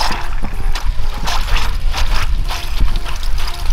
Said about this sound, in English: And it's squirting out water already.